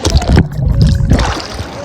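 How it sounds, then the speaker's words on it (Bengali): Sea waves at Digha beach break close by in two loud, churning surges with a short lull between them. "ওই ঢেউ কি স্পিড, আর একটা সামনে থেকে আসছে।"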